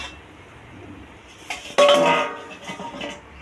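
A metal pot lid comes off a cooking pot with a sharp clanging clink, followed by a short ringing decay and softer kitchen clatter in a quiet setting.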